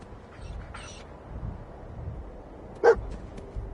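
A single sharp bark from a dog companion in Fallout 4 stands out against a low, steady game ambience, with a faint tone briefly before it.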